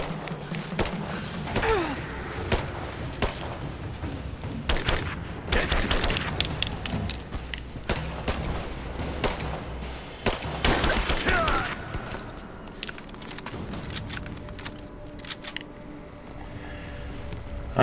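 Rapid bursts of video game gunfire crackle throughout a tactical shooter firefight, with dense volleys and sharp single shots rising and falling, loud and close, while a player calls out under fire.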